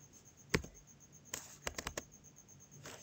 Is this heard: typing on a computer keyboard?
yes